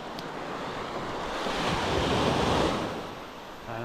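Ocean surf at low tide on a choppy shore, a steady wash of breaking waves that swells and recedes, with wind buffeting the microphone and no voices.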